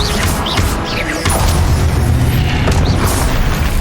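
The Confringo fire spell bursts in Hogwarts Legacy with a loud booming impact and a crackling, rumbling blast. Whooshing spell sweeps come before and after the blast, all close and dense for under four seconds.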